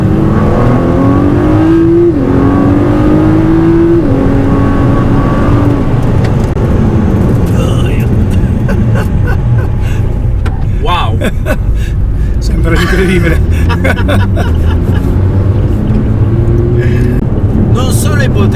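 Ford GT sports car driven hard at high speed, engine loud and close as revs climb through gear changes in a rising, roaring whine, with people talking over it inside the cabin.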